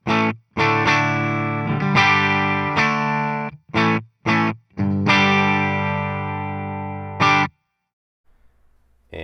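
An electric guitar runs through an amp and effects with a slightly broken-up, distorted tone, playing loud sustained chords and short choppy stabs with chorus-like shimmer before ringing off into silence.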